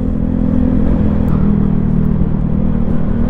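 An MSX125 motorcycle on a Monday morning commute ride, its steady engine drone and rumble continuous and loud throughout, with no talk.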